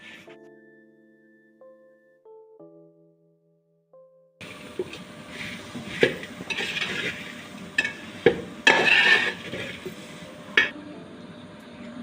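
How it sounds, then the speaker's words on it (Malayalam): Beaten rice is stirred into jaggery syrup in a pan, a busy scraping and clattering of spoon on metal after a quiet opening of soft tones, with a few louder knocks along the way. "നമുക്ക് നന്നായിട്ടൊന്ന് അടി പിടിക്കാതെ സാവകാശം നമുക്കൊന്ന് ഇളക്കി കൊടുത്തുകൊണ്ടിരിക്കണം"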